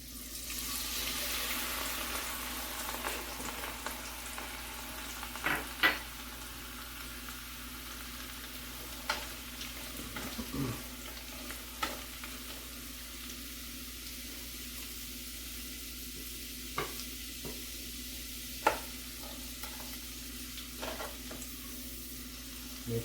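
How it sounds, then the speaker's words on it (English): Carrot strips frying in hot grease for a crispy garnish, a soft, steady sizzle with scattered light clicks and taps of the strips being moved around. "going back and forth in the hot grease"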